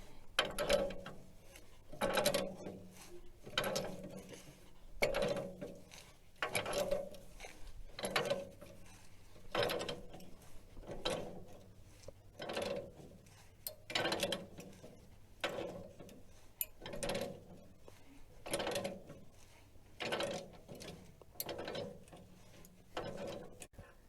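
A broken stud being worked loose from a Caterpillar D7 4T dozer part after oiling, steady repeated metallic ratcheting clicks in a regular rhythm about every second, close and moderately loud with no voices.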